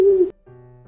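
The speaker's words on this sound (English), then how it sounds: "The sound of owls." An owl hooting: a short, low hoot that cuts off after a third of a second, followed by a quieter, softer low tone, close and without talk.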